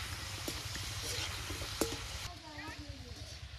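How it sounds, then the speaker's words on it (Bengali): Angul gaja sweets fry in hot oil over low heat, giving a steady close sizzle with small bubbling crackles and the occasional clink of a utensil. "আস্তে আস্তে জালে গজাটা ভেজে নিতে হবে।"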